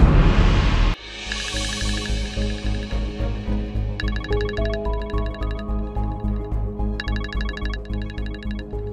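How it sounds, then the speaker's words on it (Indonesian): A phone's melodic ringtone plays in a household scene after a brief loud burst, repeating bright tonal phrases in a steady cycle over a low sustained backing. "Kayaknya mendingan aku telepon Mbak Amira aja deh."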